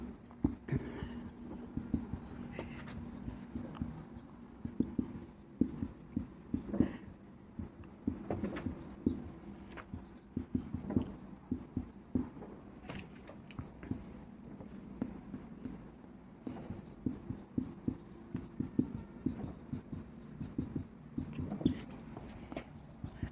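A teacher writes on a board during a maths lesson, giving a run of irregular taps and scratches, fairly close and moderate in level, over a low steady room hum.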